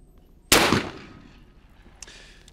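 A single loud, close shotgun blast at a thrown clay target on a skeet field, with a sharp onset and a decaying roar, followed by two faint later cracks.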